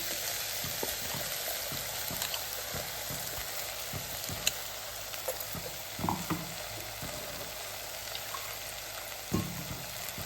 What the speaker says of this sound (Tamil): கொஞ்சம் பச்சை வாசனை போகிற வரைக்கும் வதக்கி விட்டுடலாம்